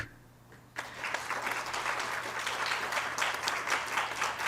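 After a brief quiet moment over a low electrical hum, an audience bursts into sustained applause as a speaker walks onto the stage at a conference, the clapping staying full and even.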